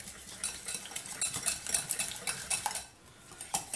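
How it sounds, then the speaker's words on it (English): A whisk clatters quickly and rhythmically against a bowl while mixing a sauce with mustard, producing light metallic scraping and tapping close by, with a brief pause near the end. "I'm going to go ahead and whisk that up"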